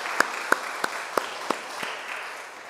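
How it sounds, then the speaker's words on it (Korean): A church congregation at a Sunday worship service claps in a short, sparse burst of distinct, evenly spaced claps that thin out and fade after a couple of seconds. "우리 다시 한번 여러분들을 스스로 격려하면서 감사하다고 박수 한번 하겠습니다."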